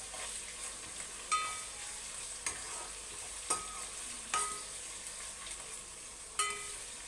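Coriander and curry leaves fry in a pan with a steady soft sizzle, punctuated by a few sharp scraping stirs at intervals, close and fairly quiet with no talking.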